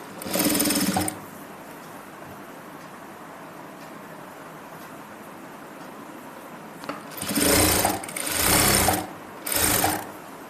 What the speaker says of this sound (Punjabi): ਤੇ ਐਦਾਂ ਸਲਾਈ ਲਾ ਦਾਂਗੇ